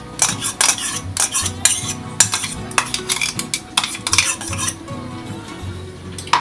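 A spoon stirs cashew paste into fish korma in a pan over a low flame, with busy, continuous scraping and clinking of metal against the pan and a faint sizzle beneath, close and steady without any talk.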